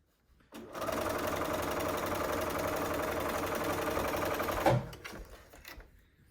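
A sewing machine stitches a seam on a face mask, running at a steady, rapid clatter for about four seconds before stopping with a brief final clunk.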